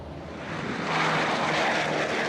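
A restored B-29 bomber's propeller engines roar during takeoff, a loud, steady, swelling drone with broad rumbling noise and no voices.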